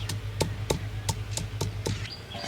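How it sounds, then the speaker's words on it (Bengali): Ginger, garlic, dried and green chillies being ground into paste by hand in a village kitchen, heard as about seven sharp rhythmic taps or pounding strokes, fairly close, over a steady low hum. "আদা রসুন শুকনো লঙ্কা কাঁচা লঙ্কা বেটে নিচ্ছি"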